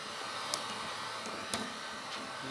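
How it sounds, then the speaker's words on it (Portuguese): A hair dryer blows steadily on a car sticker to loosen its adhesive. A constant close whooshing roar runs throughout, broken by a few faint clicks and knocks. "Depois com o secador de cabelo."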